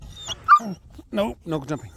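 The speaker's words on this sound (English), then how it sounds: "This is my dog." A dog whimpers and yips in short bursts close by while a person speaks over it, the whining mixed in between spoken words.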